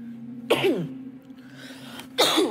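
Two sharp, harsh coughs about two seconds apart over a steady low hum.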